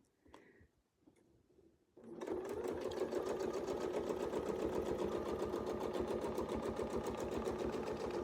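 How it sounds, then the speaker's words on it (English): A sewing machine starts after a couple of seconds of quiet and then runs loud and close at a steady, even stitching rhythm until the end, with no one talking over it. "notice the rhythm on my machine. Nice and rhythmic. It's like I call it the machine lullaby."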